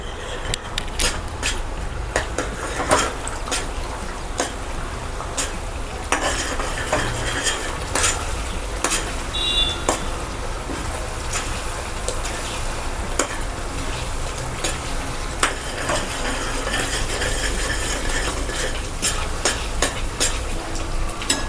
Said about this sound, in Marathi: आता हा मसाला या तेलामध्ये छान परतून घ्यायचा.